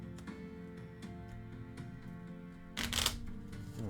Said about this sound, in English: Shuffle those up real quick.